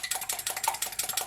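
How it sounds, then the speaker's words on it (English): Egg beaten with a whisk in a bowl for a bread pudding, heard as quick steady rhythmic clicking strokes close up, with no talk over it. "we just beat an egg, whisk"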